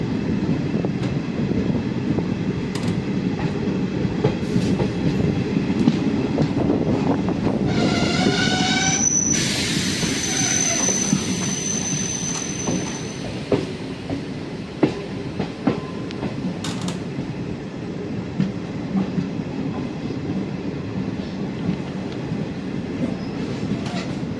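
Passenger train on an Indian railway line slowing and coming to a stop near a station, with a loud steady rumble of wheels, a sharp metallic squeal of braking wheels partway through and a short horn blast.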